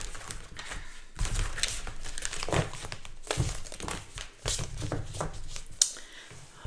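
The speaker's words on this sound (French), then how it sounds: "Et on va pêcher 2 cartes." Oracle cards being drawn from a large 105-card deck, a continuous close crinkling and shuffling of card stock with soft rustles and taps, no talking.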